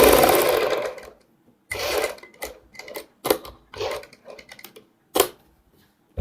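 Sewing machine stitching a seam along a kurti neck, running in several loud bursts of rapid stitching separated by short pauses, close up and with no talking.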